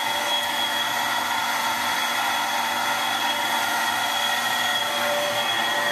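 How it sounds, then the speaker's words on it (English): A cheap Harbor Freight water pump that runs poorly gives a steady, close, whining motor hum with a constant hiss, unbroken and alone. "So now I'll turn the pump on."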